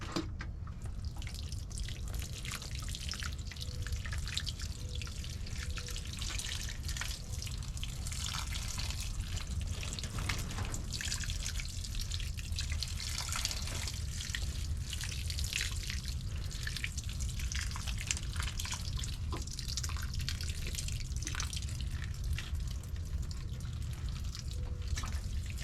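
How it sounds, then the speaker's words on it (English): Freshly planted sweet potato slips are watered, and a steady splashing, trickling flow of water continues throughout, with soft drips and no talking. "Now I'm going to give them their final watering."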